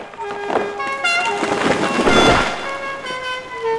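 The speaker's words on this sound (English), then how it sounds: "Then suddenly, there is a loud honking noise." A flying Ford Anglia car sounds a loud, sustained horn, a continuous blaring tone that wavers slightly in pitch over a few seconds.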